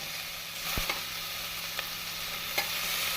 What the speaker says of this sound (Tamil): நாம் தக்காளி இந்த அளவு வதங்குவோம் மல்லி இலை சிறிது போட்டுக்கொள்ளலாம்